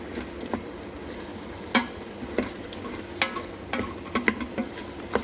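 A spoon scrapes and stirs flour into browning chicken for coq au vin inside a multicooker pot, soft sizzling underneath with a series of sharp clicks and scrapes at irregular intervals, close up.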